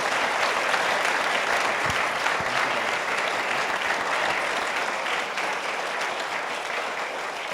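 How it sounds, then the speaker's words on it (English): Steady, dense applause from a large audience at a community homelessness summit, honoring a panel; continuous clapping fills the room at even loudness throughout, with no voices over it. "So round of applause for our panel"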